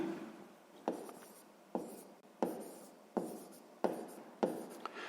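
A pen writing on paper during a sixth-grade maths exercise, heard as six evenly spaced scratchy strokes, each beginning with a sharp onset and then fading. The sound is close and quiet, with no talking.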